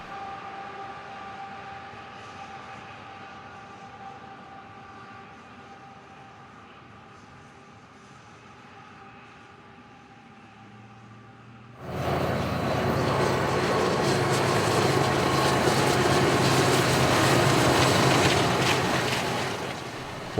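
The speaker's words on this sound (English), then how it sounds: "We began with this westbound stack train passing the classic water tanks." A westbound double-stack freight train passes classic water tanks beside the tracks in Kingman, Arizona, starting with a distant tonal hum and steady rumble, then swelling abruptly into a loud, broad roar of cars rolling past close by.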